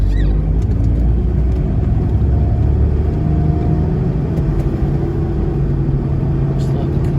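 Toyota Troopy with a 1HD-FTE diesel engine pulling onto a highway, a steady loud low engine and road rumble running throughout with a voice talking over it.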